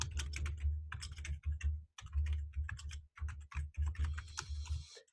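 Someone types on a computer keyboard in quick bursts of clicks with short pauses between them, quiet and close, with no voices.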